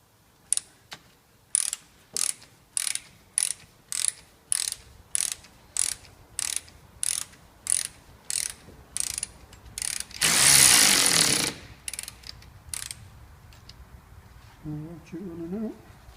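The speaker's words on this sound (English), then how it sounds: "Ratchet running out." A ratchet wrench runs out a stiff bolt on the front brakes of a Citroen C2 1.1, its pawl clicking in a steady repeated rhythm up close, broken by a brief louder burst of noise before the clicking resumes.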